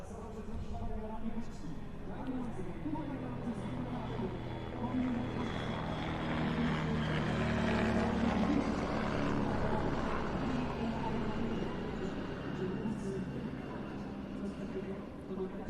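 Aircraft performing a roll while on aero tow behind a helicopter at an airshow in Leszno, a steady droning engine and rotor noise continuing throughout, swelling slightly midway, with voices talking over it.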